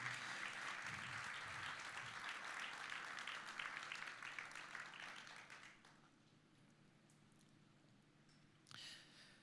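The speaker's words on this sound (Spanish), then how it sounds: "Fuerte ese aplauso de alabanza al Señor" Congregation applauding in praise during a church service, a dense sustained wash of clapping that fades after about six seconds, leaving quiet room tone with a brief renewed burst near the end.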